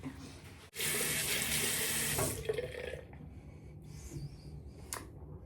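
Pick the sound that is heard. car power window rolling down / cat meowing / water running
water running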